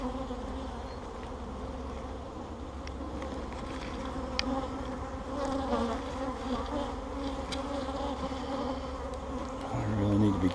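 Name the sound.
swarm of agitated honey bees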